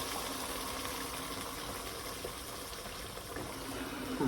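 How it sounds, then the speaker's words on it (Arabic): Water pours steadily into a cooking pot over eggplant for a stew, a continuous gushing rush that stays even throughout. "هلا حطيت المي عليهم."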